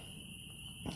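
Crickets chirping steadily at night beside a lake, a continuous high trill over faint low background noise, with a brief rustle near the end.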